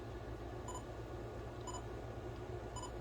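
Small camera beeps three times at steady intervals as the shutter button is half-pressed to focus, faint and short over a constant background hum.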